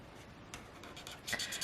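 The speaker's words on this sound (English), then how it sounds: "And then I'm just going to color in the shoes." Marker coloring in the shoes of a gnome drawing on a card, soft close scratchy strokes rubbing on paper, quiet and intermittent with a few brisker strokes near the end.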